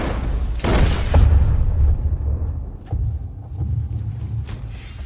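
Gunfire in the video game Red Dead Redemption 2, a heavy booming shot with a rumbling tail followed by a few sharper distant cracks, loud and without speech.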